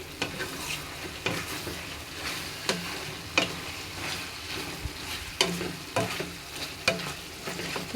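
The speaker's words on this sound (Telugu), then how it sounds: "ఇప్పుడు ఈ చికెన్ని కలుపుతూ ఉండాలన్నమాట లేదంటే మాడిపోద్ది" Chicken frying in a pan over a medium flame for a home chicken curry, with a steady sizzle and repeated scraping clatters as it is stirred at a close distance.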